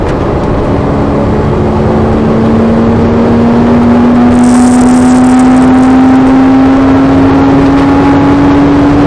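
A Porsche car engine accelerating, its pitch rising steadily as the revs climb, loud and close from inside the cabin, with a steady drone.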